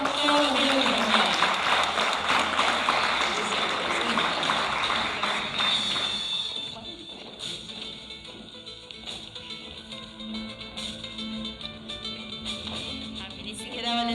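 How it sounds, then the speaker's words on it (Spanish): Applause from the audience at a heritage conference session in San Bartolomé de Tirajana, loud and dense at first, then thinning into a lower, steadier patter with some voices mixed in. "Un fuerte aplauso para ellos que han estado todos los días de la jornada."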